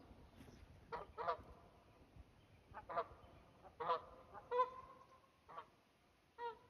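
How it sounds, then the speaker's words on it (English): Several geese flying overhead in circles honk in scattered bursts, some calls overlapping, against a quiet background; the calls sound somewhat distant. "Those geese keep flying around in circles."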